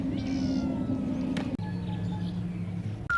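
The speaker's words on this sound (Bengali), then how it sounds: "বেড়াল ডাকছে দেখেছো মাছের গন্ধ থেকে?" A cat meows repeatedly in a home kitchen where fish is being cleaned, drawn-out wailing calls, fairly loud and close, with no speech.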